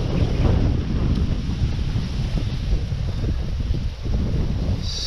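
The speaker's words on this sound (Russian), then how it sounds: "так как ветер очень сильный" Strong spring wind at a Volga river channel buffets the microphone with a loud, continuous roar and rumble, and a brief lull near the end.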